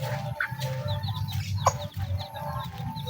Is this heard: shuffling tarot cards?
no